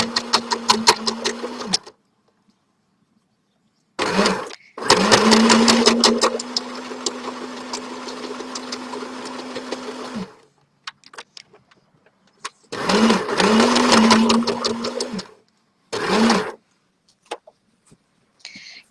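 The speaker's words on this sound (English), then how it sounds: "I'm going to back stitch over it." A sewing machine back stitches a tie-dye fabric shopping bag in loud, close whirring runs: a short burst, a long steady stretch, then two more bursts separated by quiet pauses.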